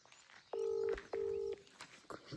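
A telephone keypad sounds two short dialing tones in quick succession, each lasting under half a second, clear and fairly close over faint background noise.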